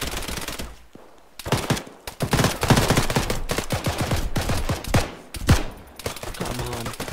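Rapid bursts of rifle and automatic gunfire in an Arma 3 raid, close and loud, cracking in dense clusters with brief gaps between volleys.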